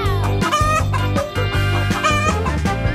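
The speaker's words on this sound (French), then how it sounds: "Je pense que cette poule veut prendre notre poussin." Hens and a rooster on a farm, several birds clucking steadily and close in overlapping, rhythmic calls, continuous and loud with no talking over them.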